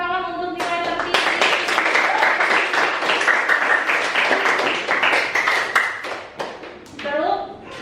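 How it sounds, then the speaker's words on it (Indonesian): A classroom of students claps for the highest test score, loud close hand claps beginning after a moment and running steadily for several seconds, with a teacher and children talking at the start and end. "Beri tepuk tangan untuk nilai tertinggi."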